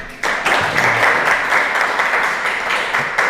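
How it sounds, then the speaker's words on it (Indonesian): Islamic boarding school students applaud together after their teacher's Maulid Nabi lesson, a steady dense wash of clapping holding at even loudness throughout, with no voices standing out. "Santri-santri, tepuk tangan buat kalian."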